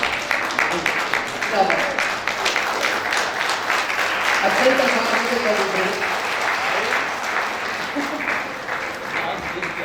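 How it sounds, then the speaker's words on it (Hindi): An audience at a success celebration applauds, a dense, steady patter of many hands clapping at close range that lasts throughout. "जोरदार तालियां बीच में।"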